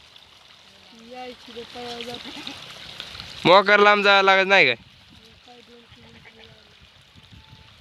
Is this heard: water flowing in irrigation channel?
yes